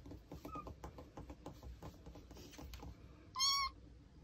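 A Korean shorthair cat gives one short, clear meow near the end, standing out against faint tapping and quiet room noise.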